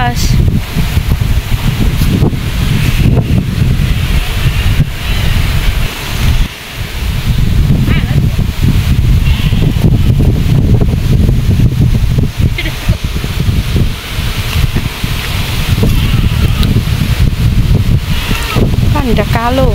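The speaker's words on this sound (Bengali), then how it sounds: "কি বাতাস!" Strong wind blusters hard across the microphone outdoors by dark water near a homestead, a loud, continuous roar with gusty surges and brief lulls, while a voice talks faintly now and then.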